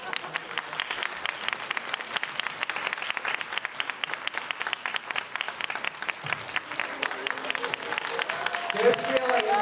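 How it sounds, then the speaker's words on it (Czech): Audience applause greeting a performer at a theatre show: dense, sustained clapping from a sizeable crowd fills the full ten seconds at steady loudness, with a few voices mixed in. "Přivítejte obrovským potleskem a následně odměňte Dominika"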